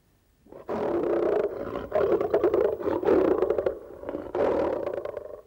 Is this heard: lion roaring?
yes